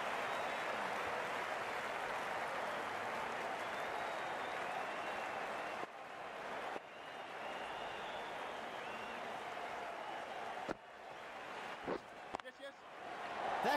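Spectators at a North American club cricket match between Silicon Valley Seals and Dallas applaud a boundary with steady, distant clapping that lasts several seconds, as a commentator speaks over it.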